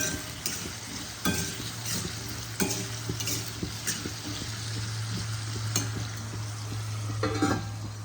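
Potato pieces frying in a covered pan for a banana blossom curry, a steady close sizzle with occasional clinks and scrapes of a spoon stirring against the pan.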